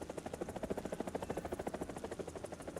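A helicopter in War Thunder flies with a steady, rapid rotor chop that pulses evenly throughout, fairly faint and heard alone.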